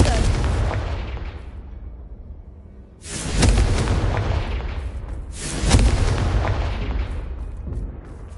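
Confringo blasting spell explosions in the wizarding game Hogwarts Legacy: two loud booming blasts, each with a sharp crack and a long rumbling fade, following an earlier fading blast.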